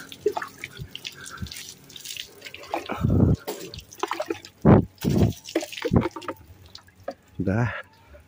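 Water poured over a rasta cat's head during a wash in a workshop garage, coming as irregular splashing bursts close by, with a voice talking in between.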